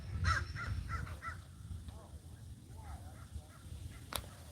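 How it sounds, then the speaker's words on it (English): Crows caw from trees near Spring Lake in Santa Rosa, several harsh calls in a quick run at first and then scattered fainter caws over low outdoor background. "See Alfred Hitchcock's crows in the trees."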